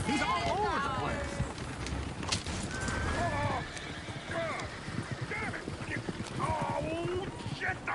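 Horses gallop in a video game, hooves clip-clopping in a dense, busy rhythm under several voices talking, with a whinny or two mixed into the scene.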